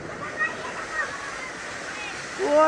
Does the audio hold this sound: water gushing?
yes